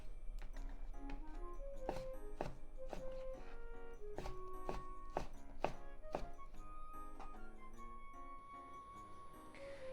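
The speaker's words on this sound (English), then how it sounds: "And bacon into slices too." A knife cuts bacon into slices on a cutting board, giving a steady series of crisp, close chopping taps, about a dozen sharp strikes in uneven rhythm, alone with no talking.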